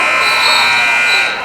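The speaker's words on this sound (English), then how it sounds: "Joel Humphrey at the buzzer for three." A basketball buzzer sounds at the end of the first half of a boys' high school game between Colfax and Turtle Lake, a loud sustained electronic drone lasting about a second and a half over gym crowd noise.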